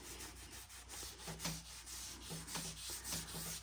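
A wet cotton painter's rag rubs finish into the wooden surface of a simple bench swing, faint repeated scrubbing strokes in a soft, uneven rhythm close by.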